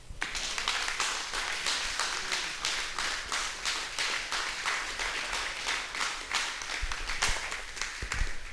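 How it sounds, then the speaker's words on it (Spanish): A church congregation claps and applauds during a Spanish-language sermon, a dense, steady wash of hand claps with a loose rhythmic pulse that holds for several seconds, close and fairly loud. "Bríndele un aplauso al Señor."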